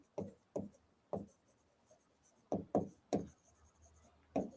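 Marker or chalk strokes on a classroom board, a series of short scratchy writing bursts in uneven rhythm with brief pauses between them, close and fairly clear, with no talking.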